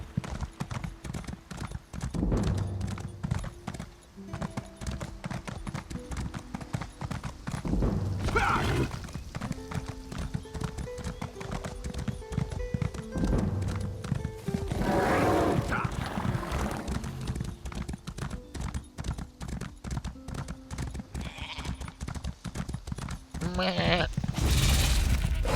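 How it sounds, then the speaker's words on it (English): A horse gallops in Elder Scrolls Online with a steady, rhythmic clip-clop of hooves throughout, broken by occasional whooshing bursts and a brief whinny, with a voice talking over parts of it. "Run, my horsey."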